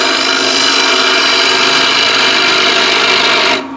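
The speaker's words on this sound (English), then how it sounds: "I'll use a square inch scraper." A square scraper carves and hollows wood for a ladle, giving a loud, continuous rasping scrape at close range that runs steadily before cutting off abruptly near the end.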